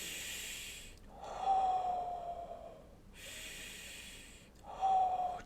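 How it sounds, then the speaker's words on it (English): Heavy breathing during jiu jitsu, two long close exhalations with a faint whistling edge, separated by quieter inhales, alone without talk. "Listen to yourself breathing."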